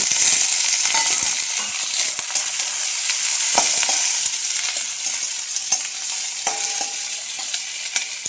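Onions and capsicum frying in a pan, a bright continuous sizzle with repeated scraping and clicking from stirring, close and steady with no voices.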